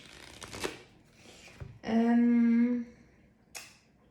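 A tarot deck is shuffled up close in a few short riffling bursts, with brief bridging and a pause between them.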